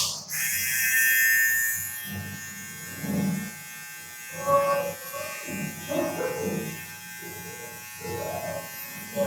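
An Enchen Beardo 2 multi-functional electric trimmer, used for shaving, buzzes steadily and close for about two seconds, then a person talks while a softer hum continues.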